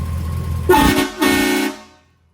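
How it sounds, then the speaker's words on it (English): Two blasts from a train horn fitted to a truck, a short first toot then a longer second one, loud and close over a low idling engine, fading out to silence at the end. "Little train horn action"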